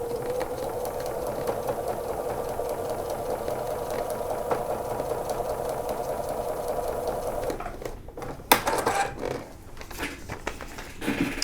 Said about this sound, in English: flipping over, and stitching on the number